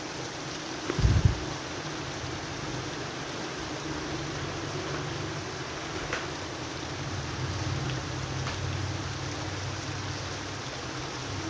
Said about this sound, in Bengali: সকাল থেকে একভাবে বৃষ্টি হয়ে যাচ্ছে।